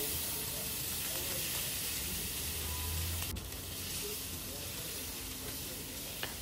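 Fish marinated with turmeric and salt fries in hot oil, giving a steady, dense hiss and sizzle close by throughout with little change in loudness.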